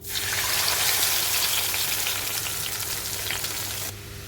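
A loud, steady sizzle of mustard spice paste frying in a wok, dense and hissing throughout, easing slightly near the end.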